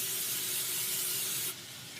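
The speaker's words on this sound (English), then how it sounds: "You can even spray this with a non-stick spray." A can of non-stick cooking spray hisses steadily onto a baking dish in a kitchen, one continuous close spray that cuts off abruptly near the end, leaving a softer hiss.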